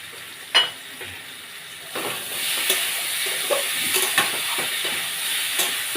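Pumpkin sautéing in a wok with five-spice seed tempering, a steady soft sizzle and hiss with occasional stirring clatter and spatula scrapes, close and fairly quiet, no talking.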